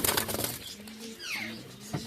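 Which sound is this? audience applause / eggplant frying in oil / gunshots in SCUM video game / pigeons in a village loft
pigeons in a village loft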